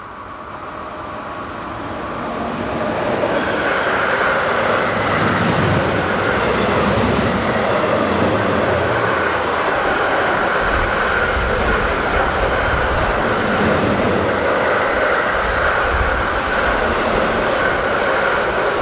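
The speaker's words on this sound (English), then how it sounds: "Class 155 number 251 heads north with a loaded car train." A Class 155 locomotive hauling a loaded car train on the Hannover to Magdeburg main line roars past, building from a quieter approach into a loud, sustained rumble of wheels and wagons that stays steady to the end.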